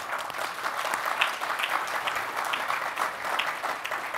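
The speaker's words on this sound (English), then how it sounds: "Let's give them a round of applause." Steady, fairly dense audience applause at an opera conference session on civic health, many hands clapping together at an even level for the whole stretch with no voices over it.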